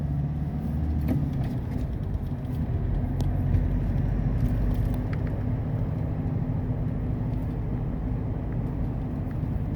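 A motorcycle on a test ride after an air filter cleaning makes a steady engine and road rumble throughout, loud and close, with faint wind noise and no clear surges.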